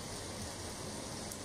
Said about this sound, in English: Can hear the rain.